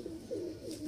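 Pigeons coo softly in a brief, faint, low burbling call from a breeder's loft, heard alone with no talk.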